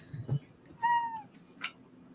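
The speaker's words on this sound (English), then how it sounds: "being dogpiled by cats right now." Indoor cats make a single drawn-out meow, close and fairly clear, with small rustles and a soft thump around it.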